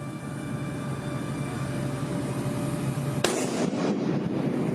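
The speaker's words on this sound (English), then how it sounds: "David Ward died from a single gunshot to the chest" A single sharp, loud gunshot cuts through a steady hum of background noise, followed by a brief ringing decay.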